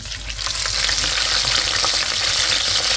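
Loud, steady sizzling and crackling of fish frying in hot oil, a continuous hiss with no talking.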